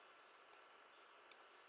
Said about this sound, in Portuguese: Damos 2 cliques aqui, ó.